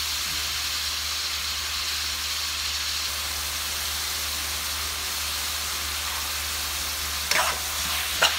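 Oil sizzles in a pan while Thai pork basil is being cooked, a steady close hiss that holds throughout with a couple of short clatters near the end and no speech.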